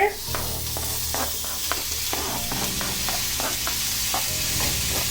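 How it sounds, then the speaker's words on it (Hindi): Vegetables, with cucumber and tomatoes going in, sauté in a pan until lightly browned, giving a steady close sizzle broken by repeated spatula clacks and scrapes as they are stirred. "जब तक थोड़ा ब्राउन मतलब हल्का सा पकेगा तब तक मैं इसको सौटे करूंगी।"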